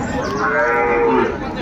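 A Sahiwal bull calf at a cattle market in Dinajpur lets out one loud, sustained moo lasting well over a second, close and clear.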